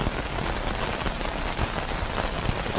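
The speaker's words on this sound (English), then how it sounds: "It's just rain." Steady rain pours down in the S.T.A.L.K.E.R. Call of Chernobyl game world, a dense, continuous hiss of drops striking surfaces with faint low rumbles beneath, loud and even throughout with no voices.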